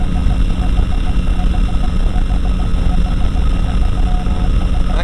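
Light aircraft engine droning steadily in flight on a cool morning with dense air, a loud, constant propeller and engine hum close by with no pauses.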